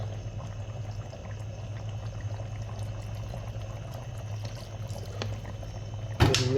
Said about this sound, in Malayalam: അപ്പോൾ ഒരു സ്പൂണ് വെളിച്ചെണ്ണ ഒഴിക്കുക.